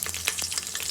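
Cinnamon, cloves and garlic sputter in hot oil for fish sambar, a brief close burst of crackling pops over a steady frying hiss.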